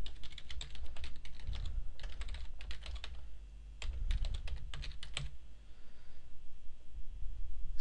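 Someone types an email address on a computer keyboard: rapid, crisp key clatter in uneven bursts with brief pauses, close and steady over a low background hum.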